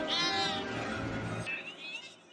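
A cat in a Scooby Doo movie lets out a high, loud meow. It is quickly followed by a second, shorter meow as the sound fades, with some background noise underneath.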